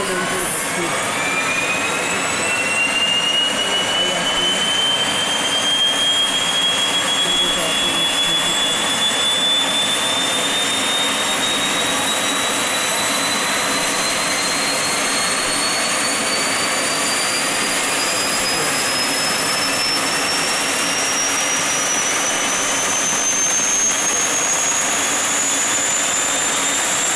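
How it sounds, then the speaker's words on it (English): A 1200 kilowatt DRDO helicopter aero engine runs continuously with a loud, steady turbine whine that slowly rises in pitch over a broad roar, and faint voices sit underneath. "the other major Aero engine which we are working on is the 1200 kilowatt engine for the helicopter platform"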